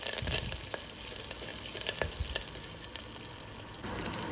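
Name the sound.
onions sautéing with chilies and curry leaves in oil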